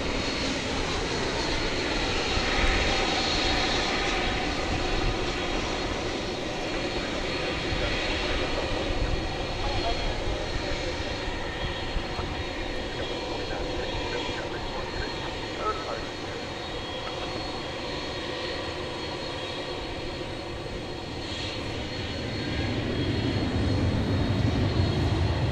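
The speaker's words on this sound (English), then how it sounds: "here comes our second MD-11 of the morning" An MD-11 airliner arriving at Dallas/Fort Worth airport gives a steady, broad engine roar that holds throughout and swells again near the end, with a voice talking over it.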